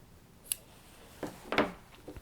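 Scissors snip a crochet yarn tail on a small amigurumi bunny, a couple of quick close cuts with a sharp click and soft rustle, no talking.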